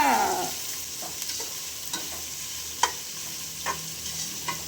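Sliced onions and green chillies fry in a pan for onion rice, giving a close, steady sizzle with a spatula scraping and stirring now and then.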